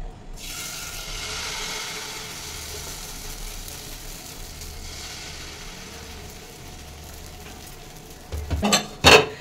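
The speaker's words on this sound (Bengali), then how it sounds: "এবার গ্যাসটা সিম করে এই 2 হাতা ব্যাটার আমি দিয়ে দেবো" Set dosa batter made with poha and semolina hisses softly on a hot pan over a low flame. The sizzle stays faint and even, then a few sharper clatters come near the end.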